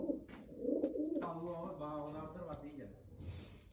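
Soft, throaty pigeon cooing close by, a short warbling call with faint background sounds.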